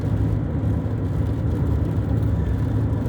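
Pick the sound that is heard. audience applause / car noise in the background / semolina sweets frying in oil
car noise in the background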